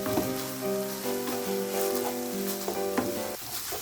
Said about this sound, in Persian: نصف قاشق چایخوری فلفل سیاه و 2 قاشق چایخوری نمک رو اضافه میکنیم و همراه گوشت تفت میدیم